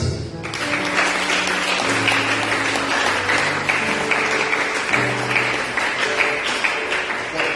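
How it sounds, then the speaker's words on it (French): A church congregation applauds loudly and steadily during a service, dense clapping filling the space over sustained musical tones underneath. "Acclamez."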